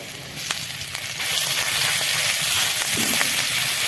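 Chopped ginger and garlic paste fry in oil in a wok. A low crackle swells into a fuller, continuous sizzle partway through, with faint stirring taps.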